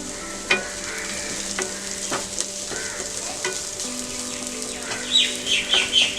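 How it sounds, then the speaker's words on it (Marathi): Capsicum, carrot and other vegetables for egg fried rice are tossed on full flame, a close, vigorous sizzle punctuated by sharp spatula strikes and scrapes at irregular intervals. "सगळं फुल गॅसवरच आपल्याला परतून घ्यायचं आहे।"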